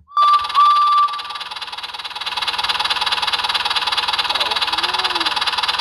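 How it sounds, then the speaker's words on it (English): A short, bright whistle sounds twice at the start, then a steady rhythmic mechanical chugging continues underneath. "Just then Wilbur heard a whistle."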